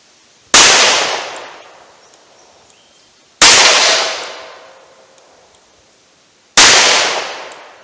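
Three loud handgun shots fired at a 70-yard target, each a sharp crack with a long ringing decay, spaced about three seconds apart with quiet in between.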